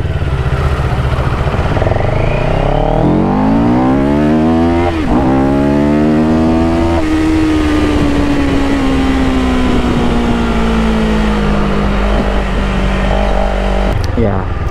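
A CF Moto CLX 700cc motorcycle launches from a stoplight on a wet night street in BGC, its engine revving up through rising gears, loud and close under constant wind rush.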